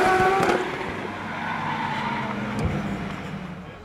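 Professional drift cars slide through a section at a D1NZ Pro Championship round in Wellington, their engines roaring loudly as tires squeal in a sustained, wavering screech that fades slightly toward the end.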